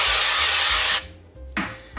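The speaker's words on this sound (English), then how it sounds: "I'm just going to spray my crock pot a little bit." Cooking spray hisses into an empty crock pot before raw chicken goes in: one loud, close, second-long aerosol burst, then a brief second spritz after a short pause.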